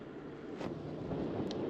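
Steady wind rushes and buffets against the microphone while cycling between hedges on a cloudy day in England, a continuous broadband roar with a couple of faint brief clicks and no speech.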